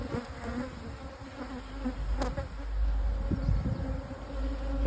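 Honeybees in a crowded hive: a continuous, close, low buzzing hum with fluctuating intensity and occasional individual bees droning nearby, no voices.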